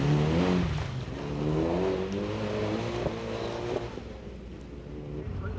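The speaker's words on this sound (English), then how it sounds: "In the standard car Group N category, Endo pulls out all the stops and clocks 3rd fastest on this stage." A Group N standard-category rally car accelerates on a stage at the 1989 Rally of Malaysia, its engine note climbing through rising revs, loud and close before easing slightly toward the end.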